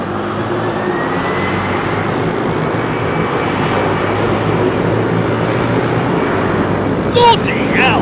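A Boeing 747 Combi freighter, formerly with KLM and converted to cargo, taxiing at Heathrow, with a steady engine roar from nearby, people talking over it and a brief louder burst near the end.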